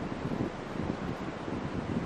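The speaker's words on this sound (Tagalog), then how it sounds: "Magpapalipad sana ako ngayon, kaso sobrang hangin." Strong wind buffeting the microphone in a low, continuous rumble, gusting unevenly with no voices present, outdoors in Ternate, Philippines.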